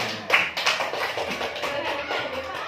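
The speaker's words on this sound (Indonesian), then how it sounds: "tepuk tangan untuk kita semuanya" A small indoor group gives a burst of applause, a dense patter of hand claps that holds steady for a few seconds at moderate volume, with faint voices mixed in.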